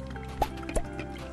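Water splashes softly twice while dishes are washed in the video game Octodad, two small, close wet sloshes over a quiet background.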